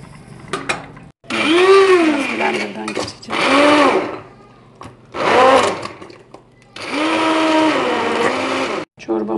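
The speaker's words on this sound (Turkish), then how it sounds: "Biraz blenderdan geçeceğim." Kitchen blender pureeing spinach soup with vermicelli for baby food, running in several loud whirring bursts that rise and fall in pitch, with short pauses between them and a brief voice at the start.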